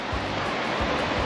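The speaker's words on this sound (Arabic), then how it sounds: "نلاقي هون في نهر" River water rushing through the old medina of Fez, a steady broadband wash of flowing water that stays loud and continuous throughout, with no voices.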